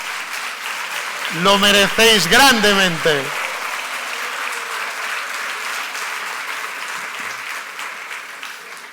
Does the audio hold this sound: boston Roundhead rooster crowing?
no